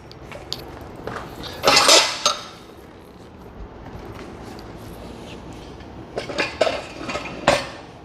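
A tire being flipped over on a Harbor Freight tire change stand gives off a few loud metallic clanks and rattles in two bursts, separated by quieter handling noise nearby.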